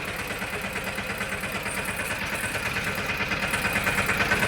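A heavy diesel tractor engine idles steadily nearby, a loud rhythmic low chugging that holds constant throughout with no voices.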